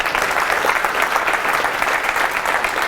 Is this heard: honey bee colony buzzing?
no